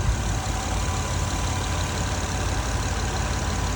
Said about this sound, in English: So your exhaust, the whole exhaust is just blowing all over the place.